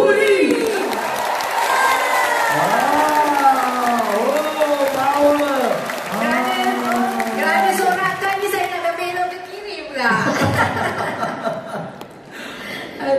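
A concert hall audience responds with cheering, shouts and scattered laughter that mix with applause, loud and sustained, briefly dropping before swelling again near the end.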